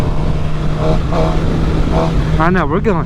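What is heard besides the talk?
Suzuki GSX-R750 motorcycle riding on the highway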